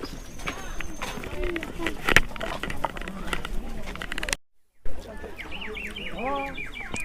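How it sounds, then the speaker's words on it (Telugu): A water-filled clay whistle toy blown at a hilltop viewpoint in Ooty, giving rapid warbling bird-like trills near the end, heard amid crowd chatter and footsteps. "అందులో కొంచెం వాటర్ వేసి ఊతారనమాట, పక్షి సౌండ్లో వస్తుంది అది"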